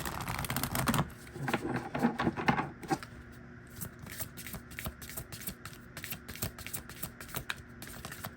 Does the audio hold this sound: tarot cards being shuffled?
yes